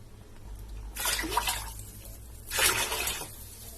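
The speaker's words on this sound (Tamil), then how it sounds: "2 கப்புக்கு 4 கப் தண்ணி ஊற்றணும்" Water pours into a pot in two separate bursts, a steady splashing rush each time, with a quiet pause between them, while cooking rice for Chettinad mutton biryani.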